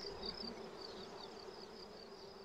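Honey bees buzz in a steady, close drone with shifting pitches during a beehive inspection, no voices present.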